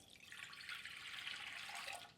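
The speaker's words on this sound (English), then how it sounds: "So we'll get the water in first" Water runs into the pan of a Panasonic bread maker ahead of wholemeal flour for an extra-large wholemeal loaf, a soft continuous trickle and splash that swells slightly in the middle, fairly quiet and without talk.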